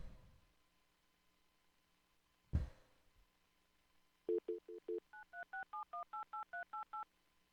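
A telephone dials out: after a click, a quick run of about fourteen crisp touch-tone beeps in steady rhythm, clear and close with no talking.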